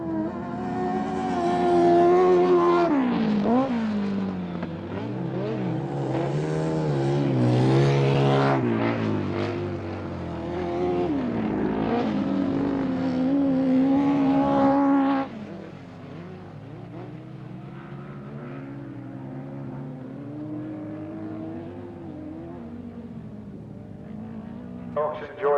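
Several 1000cc racing sidecar outfits drone past on a lap of honour, engines rising and falling near and far, with a commentator talking over the steady mechanical roar throughout.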